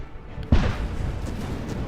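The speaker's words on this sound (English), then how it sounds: "Big explosion on" A big explosion in the video game From the Depths: a sudden heavy boom hits after a quiet moment, then trails off into a sustained low rumble.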